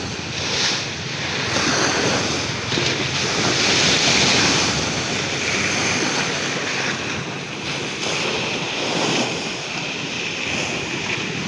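Large ocean waves roar and wash continuously, heavy surf swelling and receding beneath gusts of wind buffeting the microphone.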